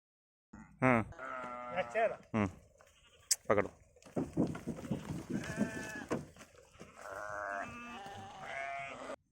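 Several goats bleating repeatedly on a goat farm, loud and close, their wavering cries overlapping with grunts and shuffling.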